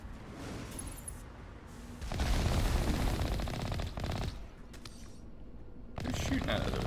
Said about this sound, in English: Who's shooting at us over there? A lot of snipers.